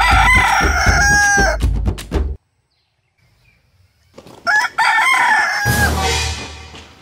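A rooster crows among clucking chickens, loud and close. Two bursts of calls are split by a short near-silent gap, and the second call rises into a long crow.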